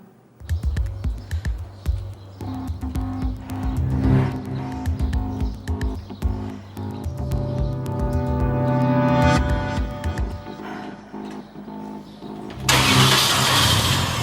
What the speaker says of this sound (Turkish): Sonra arabayı çalıştırdım.